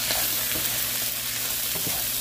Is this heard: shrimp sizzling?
yes